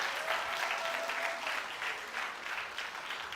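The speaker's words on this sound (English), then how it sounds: "Another round of applause for Jawahir." Audience applause at a TEDx event at Nile University of Nigeria, a steady wash of many hands clapping that rises and falls slightly, fairly distant and continuous with no speech over it.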